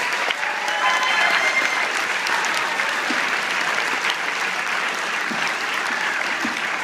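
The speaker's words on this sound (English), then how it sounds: "Give them a round of applause." Sustained audience applause for the soloists at a school Christmas concert: dense, even clapping from a full room holding steady at a constant level for the whole stretch.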